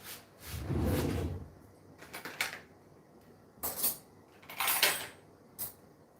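Silverware is put away in a kitchen drawer: a soft sliding rumble, then several close metallic clinks and rattles in bursts of handling, with quiet gaps between.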